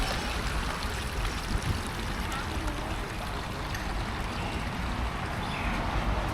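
Water from a stream rushes under a small bridge in a steady, loud, close wash of broadband noise that stays continuous without a break.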